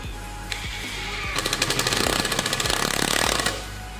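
A power screwdriver fitted with a magnetic bit holder drives a screw, giving a loud, fast rattling buzz that lasts about two seconds after a short tap, then stops.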